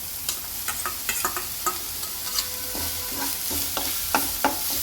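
Finely chopped spring onion greens, green onion and capsicum stir-frying for veg Manchurian, with a constant bright sizzle under a quick run of spatula scrapes and taps against the pan.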